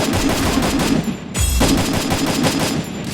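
Loud, rapid gunfire from a Garena Free Fire squad match carries on almost without a break, with one short dip in the middle.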